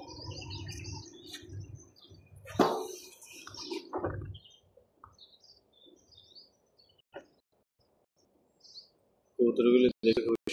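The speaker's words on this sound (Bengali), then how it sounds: "মসজিদের মধ্যে সকালবেলা কবুতরগুলি নিচে এসে খাবার খাচ্ছে" Pigeons feed on the ground at a mosque in Abu Dhabi in the morning, with scattered chirps, wing flaps and soft coos near and far, broken by gaps of quiet and a few brief voices.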